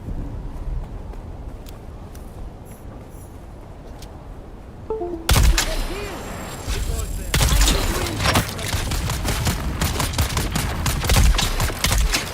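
Gunfire in the Dune Awakening game: a quiet stretch, then sudden bursts of rapid automatic shots and sharp cracks, loud and close, continuing in clustered volleys to the end.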